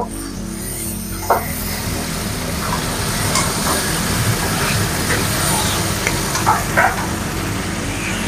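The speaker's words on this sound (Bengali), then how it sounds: "চিকেনটার কালারটা কিন্তু চেঞ্জ হয়ে এসেছে, মানে এটা ভাজা হচ্ছে" Chicken pieces frying in a pan, browning over the heat, with a steady dense sizzle throughout and a few sharper crackles and pops close by.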